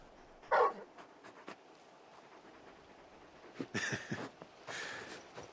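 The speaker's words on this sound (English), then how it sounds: "You're just a big puppy, aren't you? A very big puppy." A large dog in the Final Fantasy XVI video game pants and whimpers in a few short, soft bursts, one early and two later, over a quiet game ambience.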